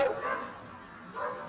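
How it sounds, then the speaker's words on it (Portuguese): A dog barks at a passerby during a morning walk in São Paulo, two short, fairly close bursts separated by a quiet pause. "Maldito cachorro, que sempre late quando eu passo"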